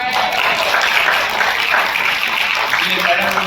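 At a Hindi poetry recital (kavi sammelan), the audience gives loud, continuous applause as a steady wash of clapping that stays even for several seconds.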